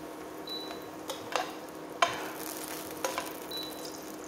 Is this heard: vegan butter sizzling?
yes